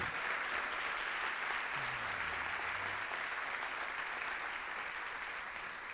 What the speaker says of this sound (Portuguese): Você pode levantar um aplauso mais forte?